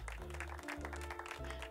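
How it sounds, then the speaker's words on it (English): Applause for Tara Wylde as Summertide Star in the video game Wylde Flowers: a soft, dense patter of clapping running steadily under bright game music throughout. "Let's get a round of applause for Tara Wylde, our Summertide Star."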